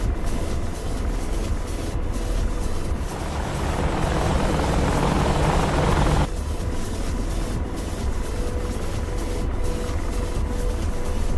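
Chinook helicopter rotors thump steadily in a military combat video game, a constant loud drone that swells louder for a few seconds midway before settling back to its earlier level.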